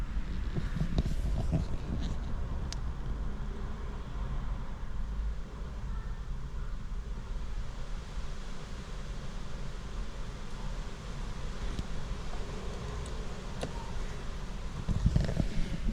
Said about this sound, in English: Even though it's really blooming windy.